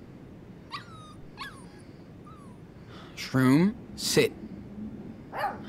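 A dog in the video game Life is Strange 2 gives several short whimpers and yips, then louder barks, while someone talks over it giving commands.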